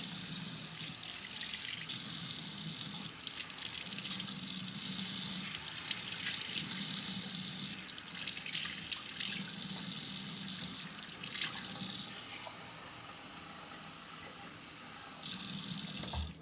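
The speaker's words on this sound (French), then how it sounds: "Un verre d'eau tiède." Lukewarm water runs from a kitchen tap into a glass while making bread dough, a close, steady splashing rush that starts and stops several times, with brief quieter gaps between flows.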